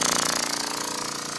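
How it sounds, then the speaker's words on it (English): Lab pump running during E. coli water testing, a loud, close, steady mechanical drone with a rapid regular pulsing throb and constant hiss. "Then you turn on the pump."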